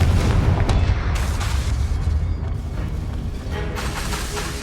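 Blasting-spell explosion in the video game Hogwarts Legacy, a loud booming burst with low rumble that decays over several seconds amid dense game noise.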